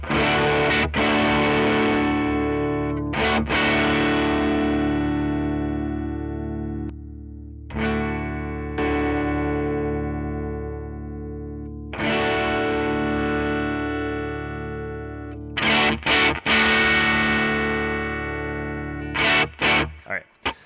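Bright, boosted electric guitar chords ring out and sustain, struck in several bursts with pauses between, thinning to a few short stabs at the end.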